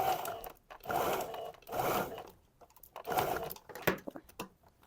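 Sewing machine stitching folded fabric for wide-leg trousers, several short bursts of fast mechanical whirring separated by brief pauses, close and moderately quiet.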